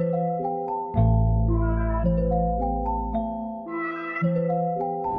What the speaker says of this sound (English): it's just the HZE preset with the bass.